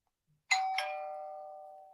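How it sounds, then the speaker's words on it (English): A doorbell sound effect played on a livestream gives a single two-tone chime, two quick bright strikes close together followed by a long ringing tone that slowly fades in otherwise silent surroundings. "when you hear the doorbell"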